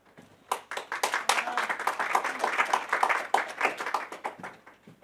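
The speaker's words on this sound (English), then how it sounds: "You don't need to make applause, please." An audience at a foreign policy talk claps for the speaker as she takes the stage, starting after a brief pause and continuing as a crisp, moderately dense patter of hands, fairly close and unaccompanied by voices.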